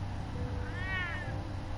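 A cat meows once in a Batman: The Telltale Series scene, a single drawn-out rising and falling cry heard up close over a low ambient backdrop.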